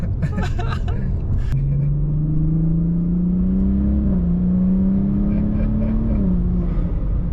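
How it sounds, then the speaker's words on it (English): A single-turbo BMW car engine drones steadily inside the cabin while a rising turbo whine builds and holds; brief voices are heard at the start. "That's like one of the best things about having a single turbo car, is because the turbo noise"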